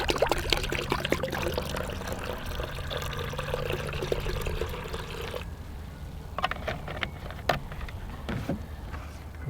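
Quantum H humic acid liquid is poured into a container for an EZ-Flo feeding system, a steady close trickle lasting about five seconds before fading into scattered small splashes and handling clicks.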